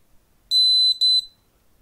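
Two short, high electronic beeps in quick succession from an ACETECH Blaster airsoft tracer unit running its self-test, clear and sharp against near silence.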